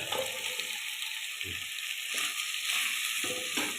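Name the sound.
beans with rock salt being sautéed in pan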